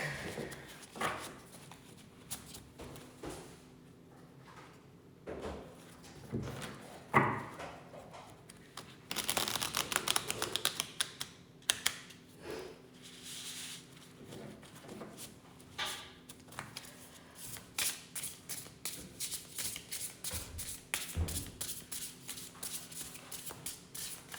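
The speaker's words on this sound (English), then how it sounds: "shuffle the deck." Quiet papery riffling and snapping of playing cards being shuffled, in repeated bursts with pauses between, close by.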